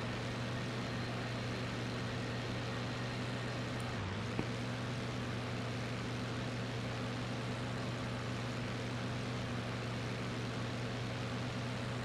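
Steady low propeller engine drone of a BF-109 fighter at reduced throttle in Il-2 Sturmovik: Battle of Stalingrad, a constant even hum with a brief dip in pitch partway through, no talk.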